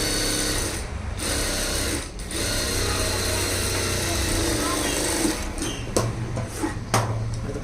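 An electric sewing machine stitches a blouse lining in a steady, loud, continuous mechanical whir with a few brief clicks near the end. A person talks over the running machine.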